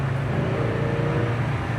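A 1957 Pontiac Chieftain engine pulls hard under transmission kickdown, a deep steady rumble heard from inside the car, loud and unbroken, with no talking.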